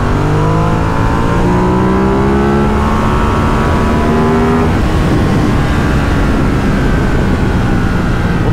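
Motorcycle engine pulling hard as the throttle opens, a loud close revving note climbing in pitch, easing briefly, then rising again.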